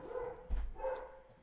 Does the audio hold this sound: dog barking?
yes